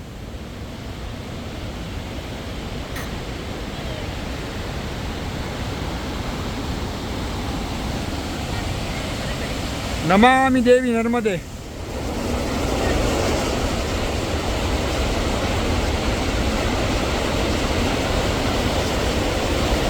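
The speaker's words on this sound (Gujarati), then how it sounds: "આ નર્મદા નદીનો ધુઆધાર વોટરફોલ છે" Dhuandhar waterfall on the Narmada river roars as a steady broadband wash that lasts the whole stretch, with a brief chanted voice rising above it midway.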